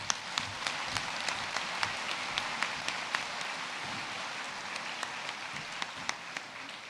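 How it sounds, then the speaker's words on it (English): Applause for graduates at a college conferring ceremony in a hall, a sustained crowd clapping with scattered sharp individual claps, steady and moderately distant, no speech over it. "And a round of applause, please, for our graduates."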